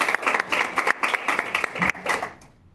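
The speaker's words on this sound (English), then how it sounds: "I feel like we need to clap." Council members at a county council study session break into a short burst of clapping after a presentation; a modest group of hands claps steadily for about two seconds, then trails off into room quiet.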